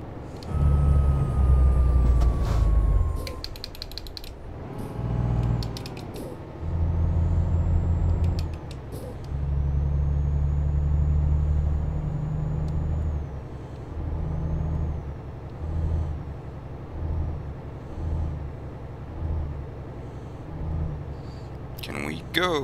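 Truck air brakes hiss in Euro Truck Simulator 2, with loud low engine rumble and several short bursts of brake air release over roughly twenty seconds, while someone talks over the game sound.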